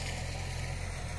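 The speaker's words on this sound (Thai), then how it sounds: "อยากเบิ้งรถไถหน่อยนะ" A small L36 tractor engine runs close by with a steady, even low rumble and slight vibration. The sound holds at a constant level throughout, with no other sounds.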